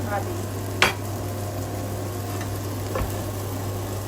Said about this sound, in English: We've got to cook the fish now